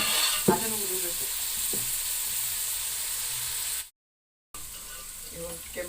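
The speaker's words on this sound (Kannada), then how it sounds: "ಆಮೇಲೆ ರುಬ್ಬಿ ಇಟ್ಕೊಂಡಿರೋದು ಮಸಾಲೆನ ಅದನ್ನು ಹುರಿಬೇಕು." Ground spice masala sizzling and frying in ghee in a pan while pulao is cooked, a steady close hiss with a few stirring scrapes, broken by a short silent gap.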